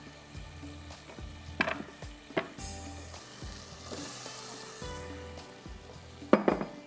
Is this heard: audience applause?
no